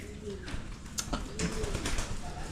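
Pigeons in a loft cooing, soft repeated low coos and a few short calls, close and moderately quiet, with a voice talking over them.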